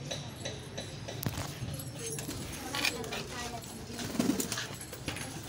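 Soft pigeon cooing comes and goes beneath nearby chatter, with occasional clinks and rustles in the background.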